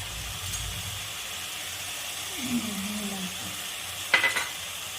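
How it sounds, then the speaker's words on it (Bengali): Masala with chilli powder stir-fried in a pan, a steady low sizzle with a scraping stroke midway and a brief clatter of utensil near the end. "এবার আমি ভালো করে মশলাটাকে কষিয়ে নেব"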